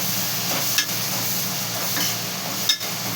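Onions fry in a pan with a steady, close sizzling hiss, broken by two brief clinks of a stirring utensil.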